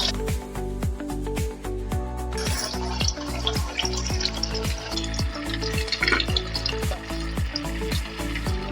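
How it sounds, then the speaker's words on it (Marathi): Semolina balls frying in hot oil give a dense, bubbling sizzle, close and continuous, under a repeating mechanical hum. "तेलामध्ये आपण सुजीची बॉल टाकून घेऊया"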